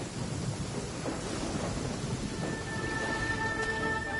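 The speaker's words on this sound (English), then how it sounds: "I hate this lightning." Thunder from a lightning storm in the Genshin Impact video game rumbles steadily beneath continuous rain and wind, with a thin tonal ringing emerging in the second half.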